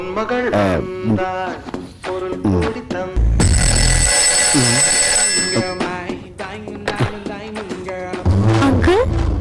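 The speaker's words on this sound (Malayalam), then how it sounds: "phone ring" A bright, sustained electronic ringing, like a telephone bell, sounds for about two seconds amid lively talking and background music.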